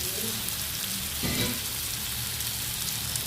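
Tamil-style egg gravy bubbling in a covered pan, a continuous close crackle and sizzle of oil and sauce with a brief louder burst midway, no voices.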